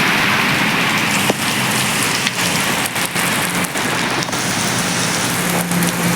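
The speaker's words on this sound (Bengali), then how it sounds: "বৃষ্টি ঝমঝম" Heavy rain pours down steadily on a city bypass road, a loud, dense, unbroken hiss with faint individual drops and small knocks scattered through it, and nobody speaks.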